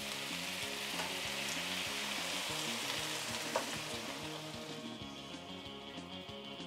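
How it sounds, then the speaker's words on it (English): Vegetable broth hits a hot pan while cooking a vegan Filipino afritada, bringing a loud, steady sizzle and bubbling frying hiss up close, with a faint stirring knock midway and the sizzle easing slightly toward the end. "The next thing we're gonna do is add the vegetable broth."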